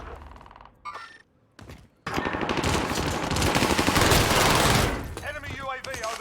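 Rapid automatic gunfire in a first-person shooter, after a few sparse shots, with loud, dense bursts that run for several seconds and a voice talking over the shooting.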